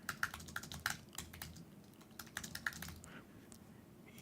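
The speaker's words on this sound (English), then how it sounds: "And then you can continue typing" Quick bursts of computer keyboard typing, close and fairly quiet, with keys clicking in short irregular runs and brief pauses.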